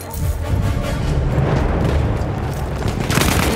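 A grenade blast in a Battlefield 1 domination match, a heavy low boom rolling into a dense, loud battlefield rumble of distant gunfire and artillery that persists throughout.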